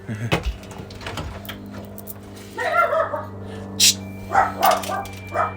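A dog barks a few times in short, sharp bursts indoors, close to the microphone, mixed in with a person talking and some household knocks.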